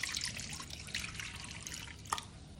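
Water is poured into a pot to boil lolong fish for a sour tamarind broth, a steady close splashing and trickling with a few louder drips, no voices.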